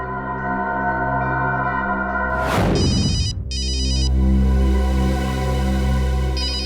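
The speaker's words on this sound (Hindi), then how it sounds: "ये अखिल का फोन है, उठाइए।" A telephone rings in a tense crime-drama scene set among mountains, its bright electronic trill sounding in repeated bursts over a steady background music bed, preceded by a sweeping whoosh.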